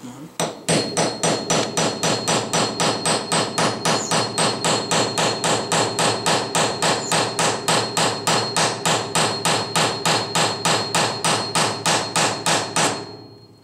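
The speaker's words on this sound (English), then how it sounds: "you want to give me a couple taps with the hammer?" A hammer taps an AR15 Osprey piston upper receiver clamped in a vise, about fifty sharp metallic strikes in a fast, even rhythm that runs without pause for roughly twelve seconds and then stops.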